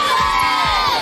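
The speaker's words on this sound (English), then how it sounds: "Any of you sees it, just scream, Salish is here" A crowd of children screams and cheers together in a loud, sustained roar, close and continuous throughout.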